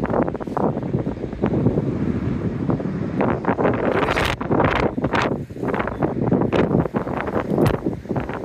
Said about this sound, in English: It's windy. So it might be noisy.